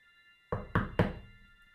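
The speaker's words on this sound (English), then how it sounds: "rapped hard at the door several times" Three hard, evenly spaced knocks on a wooden door ring out loud and close, each a heavy thud with a short resonant decay, over a faint steady hum, used as an audiobook sound effect.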